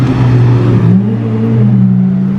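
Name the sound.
Nissan GT-R car driving past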